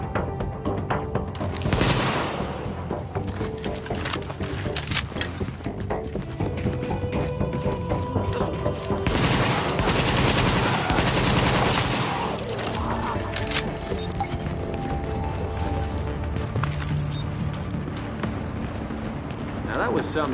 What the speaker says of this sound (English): Now that was some shooting.